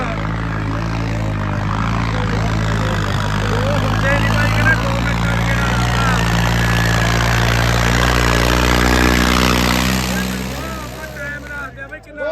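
A tractor engine runs close by with a loud, steady, throbbing rumble that swells in the middle and then fades off near the end, while people talk over it.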